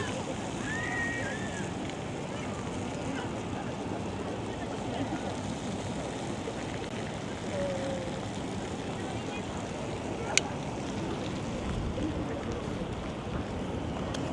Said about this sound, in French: Il y a un vent qui s'est levé qui est très sympathique.